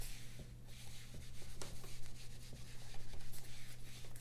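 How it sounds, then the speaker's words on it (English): Eraser rubbing across a board in a classroom, quick scratchy back-and-forth strokes repeating at a close, moderate level over a steady low hum. "Okay, so I'm going to erase in just a second."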